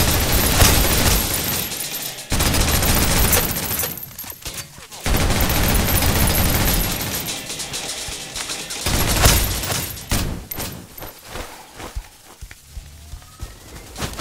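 Turret gunfire in the Snowbreak containment zone game boss fight, loud bursts of rapid shots and booms that come and go in waves over about fourteen seconds, with no talk.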